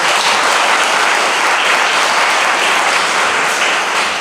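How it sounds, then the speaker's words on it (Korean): Guests at a wedding ceremony in a Korean wedding hall applaud loudly and continuously, a thick, even roar of many hands clapping close by without pause. "다시 한번 커다란 박수 부탁드리겠습니다"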